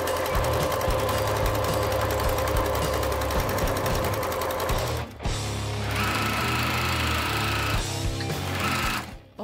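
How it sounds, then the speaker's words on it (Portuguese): A sewing machine stitches fabric for a car trash bag, running in a loud, fast continuous chatter, pausing briefly around the middle before resuming, then stopping near the end. "E daí vamos costurar do outro lado."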